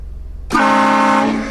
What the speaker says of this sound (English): So when I train horn people, I can yell at them as well.